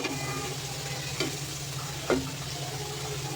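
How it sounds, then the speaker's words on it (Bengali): Frying flour snacks in hot oil give a continuous soft sizzle, with two brief scraping stirs of a utensil breaking through at close range. "এবার একটু নেড়ে চেড়ে দেবো"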